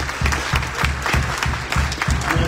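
A church congregation at a Sunday praise and worship service claps in a steady rhythmic beat, loud and close, with a low drum or bass pulse under the hands and no talking.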